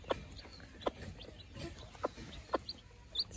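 A mother hen clucks softly in short, separate calls while being petted as she feeds beside her fluffy chicks, with a few faint higher chirps scattered in between.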